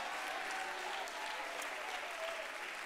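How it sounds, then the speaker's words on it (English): Congregation clapping at a church district conference, a dense sustained applause with shouting mixed in, filling the room steadily throughout. "Would you clap your hands unto him if you believe it and shout unto God with a voice"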